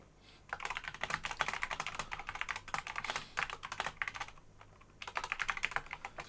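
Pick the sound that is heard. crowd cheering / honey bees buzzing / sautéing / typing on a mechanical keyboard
typing on a mechanical keyboard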